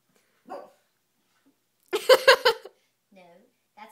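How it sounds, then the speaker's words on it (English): A dog gives a short low bark, then a quick cluster of three or four louder barks close by, with quiet pauses between and a faint yip near the end. "No, that's a bark."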